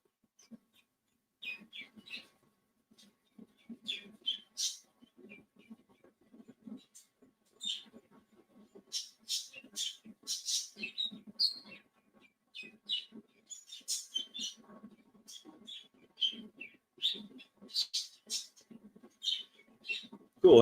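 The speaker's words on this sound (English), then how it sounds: "I got a exhaust fan and some birds that'll be gone for tomorrow" Small birds chirping indoors near an exhaust fan, faint scattered high tweets and squeaks in irregular bursts over about twenty seconds, quiet and slightly distant, with no talk.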